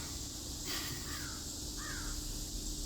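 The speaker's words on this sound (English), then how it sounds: "Thing ain't ever gonna shut up. It's a Eastern Sparrow." Two harsh, rising bird calls, like a jay or sparrow, each brief and moderately distant, heard outdoors against a steady broadband hiss of background noise.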